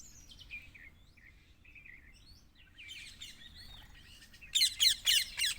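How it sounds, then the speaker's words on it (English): Many birds chirp and tweet in the morning countryside of Gujarat, scattered calls at first, faint and distant, then a cluster of louder, sharper chirps close by. "Wow, a lot of birds around me."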